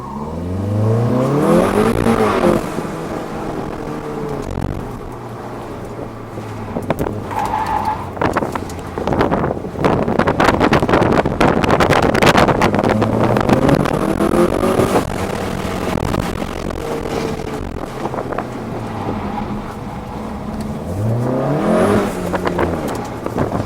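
A Volkswagen Golf R driven around an autocross course, engine revving and rising through repeated gear shifts, tires squealing in the turns, loud and close throughout with no talk.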